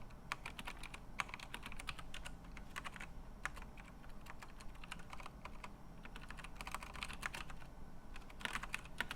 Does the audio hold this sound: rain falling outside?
no